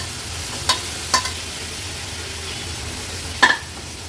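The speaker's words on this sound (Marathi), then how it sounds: "कोलंब्या मसाल्यामध्ये परतून घ्यायचे।" Prawns frying in an onion masala paste, a low steady sizzle with a few distinct spatula scrapes and clinks against the pan, heard fairly close with no talk.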